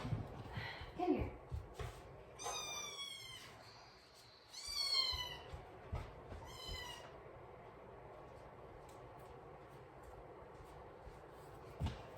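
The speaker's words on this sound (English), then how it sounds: "I don't know what's wrong with my cat." A house cat meows repeatedly indoors, several drawn-out, fairly close calls clustered in the first half, followed by quieter rustling and background noise.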